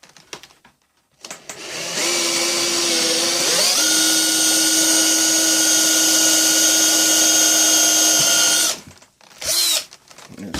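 A power drill bores a hole through leather during leatherwork, its motor spinning up with a brief pitch shift, then whining steadily at a high pitch for several seconds before cutting off, followed by a short second burst.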